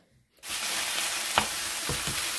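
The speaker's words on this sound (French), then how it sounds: "Je vais les faire revenir jusqu'à ce que tous les légumes et la viande soient cuits." Vegetables and meat for a pizza filling fry in a pan with a steady, loud sizzle that starts abruptly after a brief quiet moment and runs on, with a few stirring scrapes.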